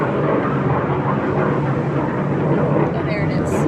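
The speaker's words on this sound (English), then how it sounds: "And there's a plane going by." An airplane passes overhead outdoors at Fort Morgan near military bases, a loud, steady, broad roar filling the whole moment.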